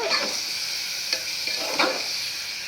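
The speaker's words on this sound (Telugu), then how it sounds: "పెరుగు కూడా కొంచెం పచ్చి వాసన పోయేదాకా వేయించుకోవాలా" Yogurt sizzles and is stirred into spiced vegetables in a pan for veg biryani, a steady close frying hiss broken by a few spatula scrapes and taps.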